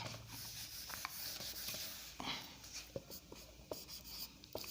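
Numbers are written by hand with a pen or chalk during a maths lesson, giving quiet, scratchy strokes and small taps in an uneven rhythm close by, with no talking.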